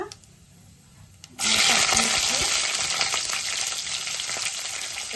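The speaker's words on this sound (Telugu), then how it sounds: "4 లవంగాలు, 2 యాలకులు, బిర్యానీ ఆకు వేసుకుని వేపాక" Cloves, cardamom and bay leaf drop into hot oil for a potato fenugreek curry, and after a quiet start a loud, bursting sizzle sets in and keeps crackling steadily, with faint stirring.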